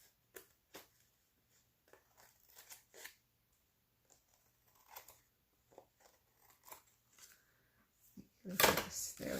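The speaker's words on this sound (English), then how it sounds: "So now I'll just cut off the extra napkin." Scissors trim excess napkin from a handmade card, giving a series of small, quiet snips and paper rustles at irregular intervals, close and faint, ending with a louder burst of paper handling.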